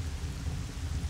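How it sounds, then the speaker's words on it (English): In Zelda Twilight Princess HD, rain falls as a dense, steady hiss over a low thundery rumble, a brief continuous stretch with no voices. "Let me in, it's raining!"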